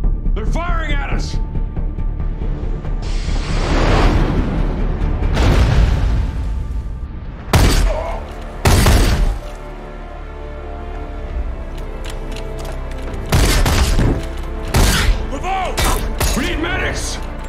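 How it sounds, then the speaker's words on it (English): Gunfire and sharp explosions ring out during an ambush in a sci-fi TV drama, loud bursts and thuds arriving in clusters amid tense shouted dialogue and background action sounds. "They're firing at us."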